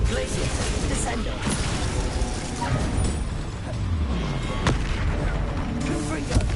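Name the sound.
Descendo spell cast in video game Hogwarts Legacy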